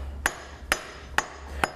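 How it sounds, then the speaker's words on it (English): A dead blow hammer taps four times at an even pace on the trapdoor of a DD6 transmission in a 2002 Harley-Davidson Road King, giving sharp, close, evenly spaced knocks with no talk. "I'm going to take the dead blow hammer and tap the trapdoor home."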